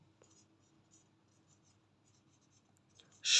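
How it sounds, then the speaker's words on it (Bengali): Pen strokes scratching across paper during a Bangla literature lesson: soft, quick scribbling in short bursts, close and quiet, ending with a sudden louder rustle. "দেখো আমি লিখে দিচ্ছি"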